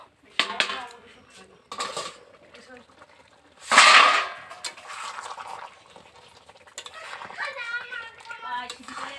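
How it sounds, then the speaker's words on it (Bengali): A cooking pot's lid is lifted off during dalia khichuri cooking in a home kitchen, giving one sharp, close metallic clatter amid lighter utensil clinks and soft rustling. "এখন আমি ঢাকাটাকে একটু খুলবো"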